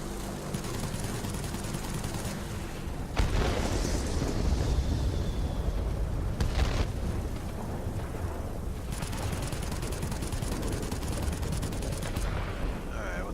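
Bombs and gunfire from a Bristol Blenheim Mk.IV bomber in World of Warplanes produce a continuous loud rumble with several heavy booming bursts and crackling blasts, set against constant engine and battle noise.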